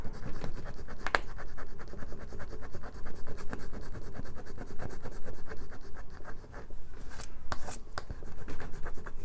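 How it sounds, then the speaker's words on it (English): Steady scratching and rubbing against paper as squares are scratched off a printed savings challenge sheet, close up and continuous, with no talking. "Just scratching some of this off."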